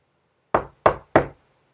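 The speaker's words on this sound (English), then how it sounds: "if I hear a knock on the door, we might have a guest?" Three sharp knocks land on a door in an evenly spaced sequence, close and loud against silence.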